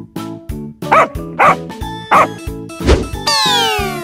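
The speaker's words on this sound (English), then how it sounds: "dog" A dog barks about five times in sharp, evenly spaced yaps over a bouncy, playful backing tune, close and clear, ending with a rising synth sweep.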